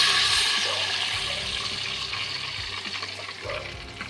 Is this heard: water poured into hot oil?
yes